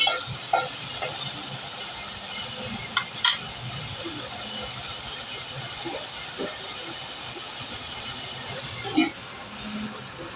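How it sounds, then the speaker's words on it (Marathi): Onion cooking in a covered pan over low gas gives a soft, steady hiss and faint sizzle with a few small pops and a light clink near the end, no talking. "स्लो गॅसवर आपण वरतून झाकण द्यायचं आहे आणि कांदा जरा शिजवून घ्यायचा आहे"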